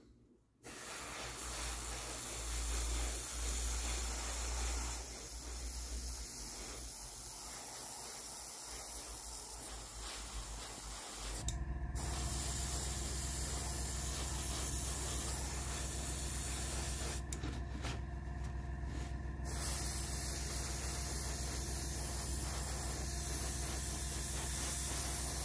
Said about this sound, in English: we're gonna spray all the wheels for the rubber black.